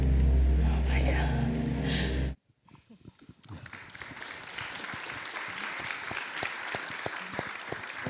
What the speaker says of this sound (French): Ça mérite des applaudissements parce que c'est quand même incroyable.